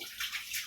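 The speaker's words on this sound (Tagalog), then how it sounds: "Tapos, lalagyan natin siya ng kaunting tubig." A small splash of water is poured into a pot for pork and eggplant adobo, a brief soft trickle that lasts under a second.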